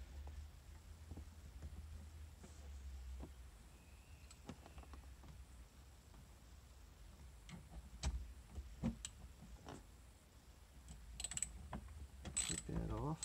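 A ratchet with a 5/16 socket removes a bolt inside a Honda push-button start switch area, making faint, close clicks in short irregular bursts with quiet pauses and occasional louder taps of metal.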